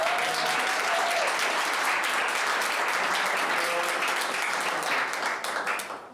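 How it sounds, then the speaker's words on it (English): Sustained audience applause fills a school board meeting room, a steady dense wash of clapping that holds loud and even for about five seconds before thinning and tapering off at the end. "let's give her a round of applause"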